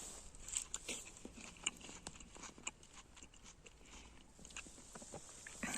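Someone bites into and chews a ripe winter pear whose white flesh has turned soft and buttery, giving a few crisp, wet bite clicks followed by quiet close chewing, with no talk.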